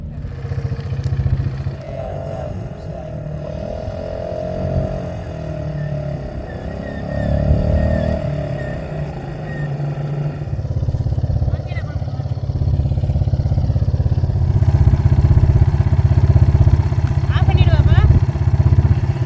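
A motorbike engine rumbles and revs nearby while riding on desert sand in Wahiba Sands, growing louder and steadier toward the end, with people talking over it.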